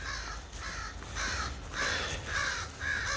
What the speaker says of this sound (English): Oh yeah, always have the crows.